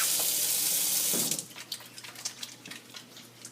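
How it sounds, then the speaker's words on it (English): A kitchen tap runs in a steady rushing stream for about a second, then shuts off, leaving soft drips and wet splashing as hands are rinsed at the sink. "Let me give my hands a rinse."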